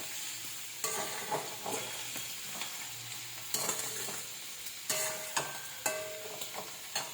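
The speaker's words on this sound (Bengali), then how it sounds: "কষতে হবে ভালো করে।" Prawn fritter curry sautéing in a pan, a steady sizzle of frying broken by repeated sharp scrapes and clatters of a spatula stirring, close and clear with no talking.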